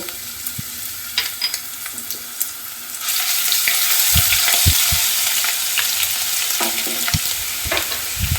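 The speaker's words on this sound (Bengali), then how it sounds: "এবার আমি দেব 8টা রসুন পেস্ট করে রেখেছিলাম, সেটা দেব।" Garlic paste hits hot oil and ghee in a pan for a Bengali chicken do piyaza, bursting into a loud, steady sizzle after a few scattered clinks, with occasional spoon knocks as it fries.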